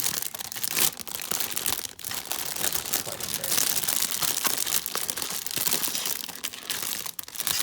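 Plastic bag holding parts of a Rodens 1/35 Rolls-Royce armored car model kit crinkles and tears open up close, a dense run of crackling rips lasting several seconds.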